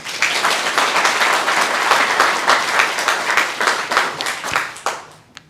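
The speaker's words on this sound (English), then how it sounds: "So a small round of applause, please." Enthusiastic audience applause at a graduation ceremony, dense and steady for about five seconds before thinning to a few last claps and fading out.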